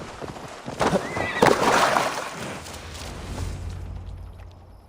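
A horse in the video game Assassin's Creed Valhalla gives a loud, close whinny lasting a couple of seconds, with hoof clops around it, then fades toward quiet.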